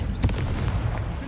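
Fire spell cast in the video game Hogwarts Legacy, a low rumbling whoosh with a sharp burst near the start, then a sustained crackling roar under faint game effects, no talk.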